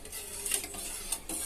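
A spoon scrapes and stirs through pepper rasam in a pot on the stove, making soft, rhythmic swishing and faint sizzling at close range with no voices.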